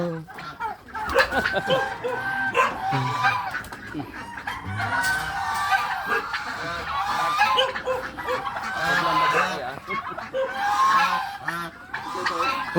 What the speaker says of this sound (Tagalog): Siyempre malalaki gansa.